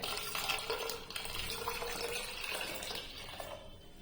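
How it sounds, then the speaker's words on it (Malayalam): Ice water pours into a mix for Brazilian lemonade, giving a close, continuous splashing trickle that tapers off at the end. "ഇനി നമ്മൾ ഐസ് വാട്ടർ ഒരു കപ്പ് ഒഴിച്ചു കൊടുക്കാം"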